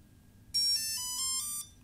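After a battery plug-in, a HobbyKing or Hobbypower RC speed controller plays a bright rising melody of several sustained electronic notes lasting about a second, clear and close with no voices.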